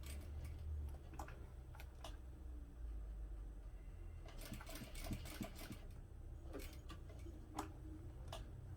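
A sewing machine stitches slowly around the curves of a clutch with a 1/4 inch seam allowance, its needle ticking in short rhythmic bursts with brief pauses, quiet and close.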